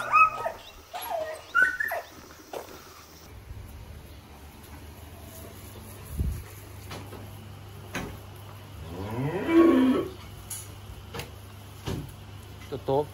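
Cattle in a dairy cowshed during a veterinary pregnancy check give a long, drawn-out moo in the middle, close and fairly loud. Barn clatter and a steady low hum sit underneath, and people talk briefly at the start.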